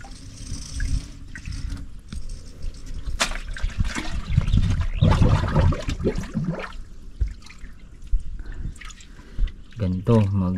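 Water seeps and drips into a freshly dug well in black sand, irregular wet drips and trickles heard close by, with people talking over it.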